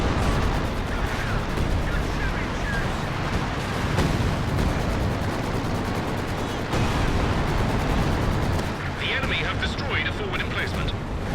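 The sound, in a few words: mortar pit destroyed by artillery in video game Company of Heroes 2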